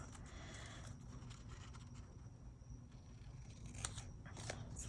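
Scissors cutting through trimmed paper journal pages at a desk, quiet crisp snips and faint rustling over a soft background hiss, no talking.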